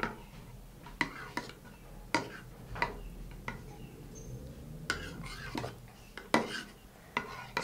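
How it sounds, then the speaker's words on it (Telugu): Sabja seeds, lemon juice and honey being mixed in a bowl with a spoon, giving repeated sharp clinks and scrapes against the vessel at an uneven pace, close and moderately quiet. "ఇప్పుడు ఇందులో మనం సబ్జా గింజలు, లెమన్ జ్యూస్ అండ్ తేనె, ఈ 3 ఇంగ్రీడియంట్స్ని మనం బాగా మిక్స్ చేసుకోవాలి."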